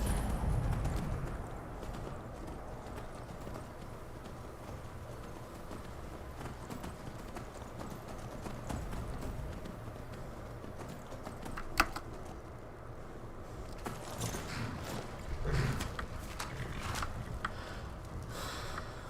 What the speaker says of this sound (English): let's bring the horse right into town